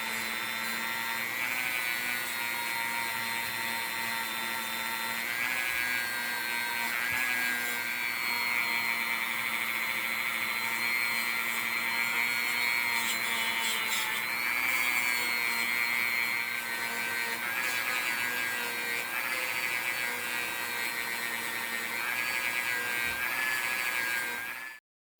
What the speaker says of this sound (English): I decided to also go over the blades with the scrubby wheel.